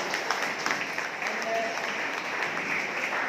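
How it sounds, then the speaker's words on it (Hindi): A crowd claps together in sustained applause, dense and steady throughout, with a few voices audible faintly underneath. "एक बार उनके लिए जोरदार ताली होने।"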